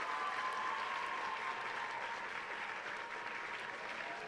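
A large audience at a regional finals show gives a final big round of applause for the young performers, a dense, even wash of clapping that carries on steadily, somewhat distant and diffuse.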